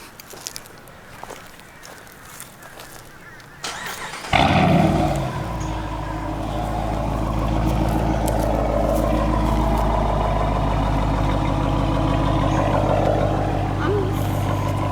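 A Dodge Durango R/T with stock headers, factory catalytic converters and a suitcase muffler, already warm, cranks briefly and fires up, then settles into a loud, deep, rumbling idle close by. Footsteps and talk are heard before the start.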